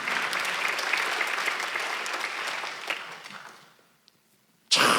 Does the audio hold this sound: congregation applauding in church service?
yes